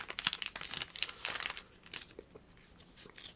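Foil trading card pack being carefully torn open, with close crinkling and ripping in uneven bursts that soften toward the end.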